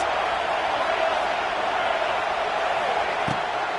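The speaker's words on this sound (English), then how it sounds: "Listen to this crowd just shaking the girders of this place, trying to help their defense." A stadium crowd roars loudly at a college football scrimmage, a dense, sustained wall of cheering noise that holds steady throughout with no break.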